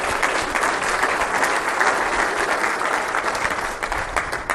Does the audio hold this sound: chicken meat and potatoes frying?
no